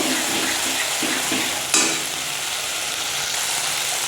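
Tomato masala sizzles and fries in a kadai, a constant close crackling hiss with soft scraping stirs and one sharper clink of the spoon partway through, with no talk.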